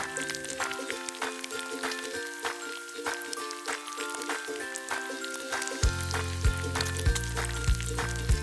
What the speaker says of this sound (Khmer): ចាំចាក់ប្រេងចូលទុកឲ្យក្តៅបន្តិចហើយបានយើងដាក់បង្គាយើងចូល